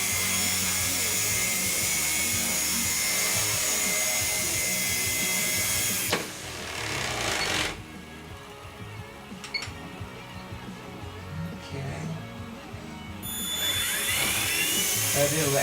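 A collective-pitch RC helicopter flies indoors with a high, whining motor and rotor buzz that shifts in pitch as it wanders and is corrected, with someone talking over it.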